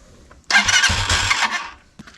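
A 2022 Bashan Brozz 250 Recon dual-sport motorcycle engine is started with the choke on. It gives a loud, close burst of cranking and sputtering that lasts just over a second before dying back to near quiet, with no talking.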